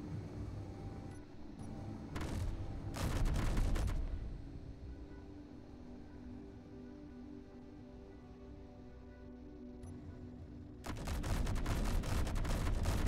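A ship's cannon in a space video game fires in several rapid bursts of booming shots, separated by a low engine hum, loud and close.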